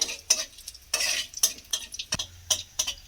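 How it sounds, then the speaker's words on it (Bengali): Whole cumin seeds with cinnamon, cloves and cardamom crackle and sizzle in hot oil, punctuated by repeated sharp scrapes and clinks of a spatula stirring against the pan. "দেখুন এখানে গোটা জিরে নিয়েছি, দিয়ে দিলাম জিরে ফোড়ন"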